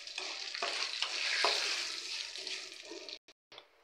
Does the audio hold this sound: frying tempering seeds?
yes